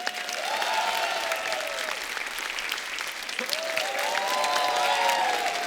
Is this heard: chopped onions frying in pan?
no